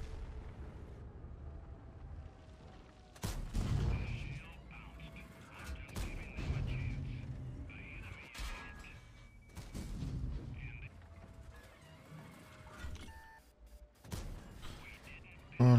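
Gunfire in a ranked online shooter match, with sharp shots and booming blasts scattered through steady game noise while players talk over it.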